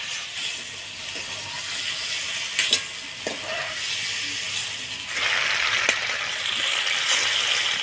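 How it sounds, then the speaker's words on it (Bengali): Shrimp fry lightly in white oil, sizzling steadily with scraping stirs and clinks of a utensil, the sizzle growing louder toward the end. "চিংড়ি মাছটা হালকা ভাজিয়ে নিলাম"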